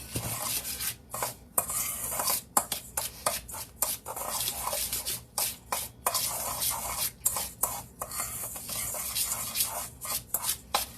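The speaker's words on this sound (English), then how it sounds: "I'm going to take a spoon and I'm going to stir this together. Graham cracker crumbs and sugar." A spoon stirs graham cracker crumbs and sugar in a bowl with continuous close scraping and gritty rustling, broken by short pauses, with no voices.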